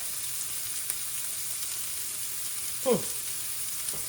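Beef sears for stroganoff in a hot pan, giving a steady close sizzle with a short clatter of a utensil near the end.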